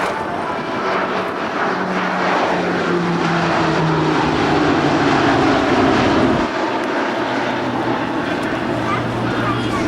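An E-2C Hawkeye propeller aircraft drones loudly and steadily overhead during an airshow demonstration at NAS Oceana, while an announcer talks over the engine noise.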